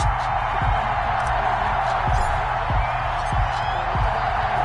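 A steady roar from the stadium crowd in an EA Sports NFL game between the Buffalo Bills and Dallas Cowboys, a constant wash of noise with faint scattered whoops over low rhythmic thumps.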